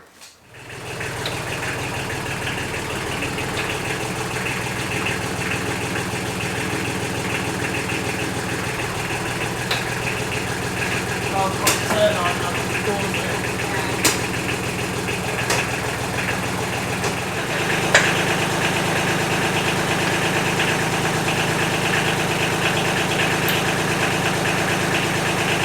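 A tractor engine starts and idles steadily ahead of harrowing a field, a constant close chugging drone with a few faint clicks, slightly changing in tone near the end.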